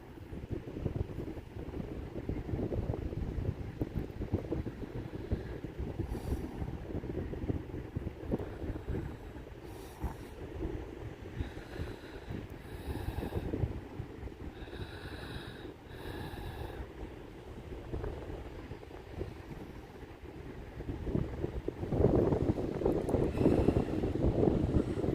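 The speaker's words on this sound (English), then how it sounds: "Are you still hearing the wind?" Outdoor wind buffeting a microphone, a continuous low rumbling roar that swells and fades and grows stronger near the end, with faint higher tones briefly mixed in and nobody talking.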